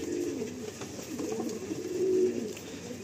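Pigeons in a loft coo continuously in low, rolling tones, several birds close together, with a soft hum of room noise behind them and no talking.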